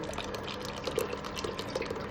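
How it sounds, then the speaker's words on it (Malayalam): Ground arrowroot paste strained and poured, a soft continuous watery trickle with faint drips, close by and fairly quiet, no voices. "അരിച്ചൊഴിക്കുകയാണ്."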